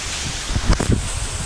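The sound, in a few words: strong wind blowing during bad weather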